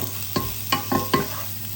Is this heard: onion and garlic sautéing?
yes